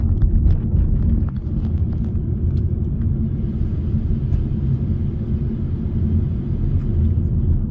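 A 2017 Chevrolet Cruze LTZ sedan with a 1.4 turbo engine drives along, giving a steady, loud low rumble of engine and road noise from inside the cabin, with a few faint clicks and no talking.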